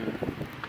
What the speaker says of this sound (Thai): ลมแรงมากไม่รู้เห็นไหมเนี่ยในวิดีโอ